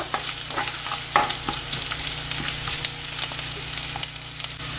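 Chopped red onion hitting a hot frying pan, a steady sizzle and fry with occasional stirring clicks, close and moderately loud.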